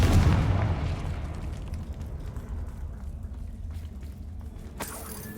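A fiery Confringo blast spell from Hogwarts Legacy bursts with a loud opening boom, then fades into a long rumbling, crackling tail with a sharp pop near the end.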